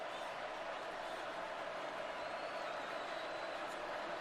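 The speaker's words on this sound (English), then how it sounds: "Georgia crowd still making some pretty good noise in here." Steady roar of a Georgia Bulldogs football crowd filling a stadium during the 2022 SEC Championship against LSU, a dense continuous wash of noise with no distinct peaks, heard from a distance.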